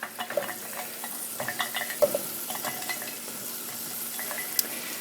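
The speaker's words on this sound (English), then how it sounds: "so the Goya is going into the pot" Goya added to a sizzling pot of anchovy pasta sauce: steady frying sizzle with repeated scraping and stirring clinks of a utensil against the pot, close up, with no talking.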